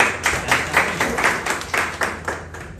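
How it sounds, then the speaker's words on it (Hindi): Audience at an entrepreneurial mindset seminar claps enthusiastically, a steady run of rhythmic, fairly close hand claps lasting a few seconds with no talking over it. "इनके लिए जोरदार ताली"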